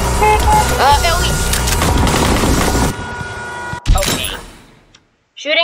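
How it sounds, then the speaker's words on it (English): In the Henry Stickmin Collection game, rapid machine-gun fire rattles loudly from a moving vehicle for about three seconds, then cuts off, followed by a sharp thud and a brief burst of further game sound. "Shooting from a moving vehicle is actually really hard, especially if you're supposed to be driving."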